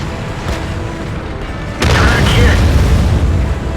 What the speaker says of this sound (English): Their Tier 9 artillery decided to take a shot at me